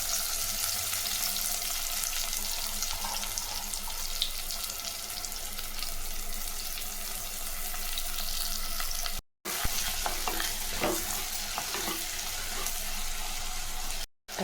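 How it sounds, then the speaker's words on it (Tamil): Onions fry in hot oil with fennel and mustard seeds, giving a constant close sizzle with light crackles and stirring knocks, broken by two very short gaps, and no speech. "கடுகு பொறிஞ்சிச்சு நல்லா கைப்பிடி நிறைய வெங்காயம் போட்டுக்கலாம்"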